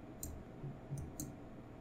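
Computer mouse clicks while selecting shapes in Inkscape: three crisp, sharp clicks spaced a few tenths of a second apart, close and fairly quiet over a low background hum.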